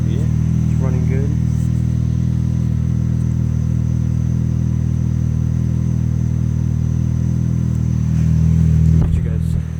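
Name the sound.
Chevy Sonic 1.8 liter engine exhaust running after cold start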